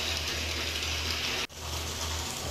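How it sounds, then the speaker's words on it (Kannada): Heavy rain pours down in a continuous, full wash of sound, brief dip midway, then resumes steadily; no talking. "ಒಳ್ಳೆ ಮಳೆ."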